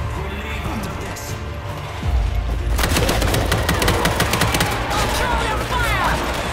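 Gunfire in World War Z during a zombie horde fight, starting as a low rumble then erupting into sustained rapid shots, loud and close, with shouted voices mixed in.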